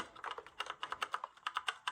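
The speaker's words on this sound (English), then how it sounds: "This is a mechanical keyboard, RGB with brown switches." Typing on a Redragon S117 mechanical RGB keyboard with brown switches, a quick run of soft, close keystrokes in an uneven rhythm, with no voices.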